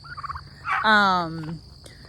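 Grow-out turkey poults on a farm give a short burst of gobbling, a couple of quick clucks followed by a loud, rattling gobble, close by.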